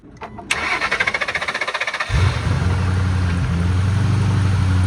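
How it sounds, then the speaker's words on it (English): A V8 Ford Mustang on a jump starter cranks with a rapid, even churning rhythm for about a second and a half, then catches and settles into a loud, steady low rumble close by. "now it's hooked up, and let's see if it'll crank up"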